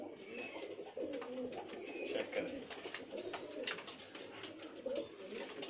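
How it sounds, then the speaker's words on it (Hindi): Racing pigeons, a newly paired couple in a loft, coo in soft repeated rolling calls close by, with someone speaking briefly in the middle. "ज़बरदस्त कबूतर है इंशाल्लाह"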